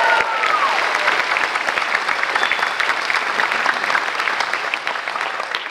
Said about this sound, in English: Let's hear a huge round of applause for our new students.